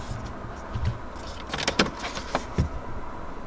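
The glove compartment of a 2017 BMW X6 M opens with a soft click and a few light plastic knocks and thumps, close and fairly quiet over a low cabin hum.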